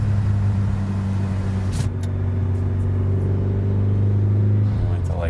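A Mitsubishi Evo 8 fitted with a Buschur Racing exhaust drives along, heard from inside the car as a loud, steady low exhaust drone with a slight rise in pitch and a couple of brief clicks.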